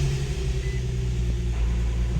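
A car starts up after an oil change and settles into a steady, close, low rumbling idle that holds evenly throughout, with no talking.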